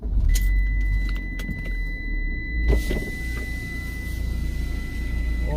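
A Ford Mustang GT passes close by, its engine a loud, steady low rumble that swells briefly near the middle, with a thin high whine running throughout and a few small clinks.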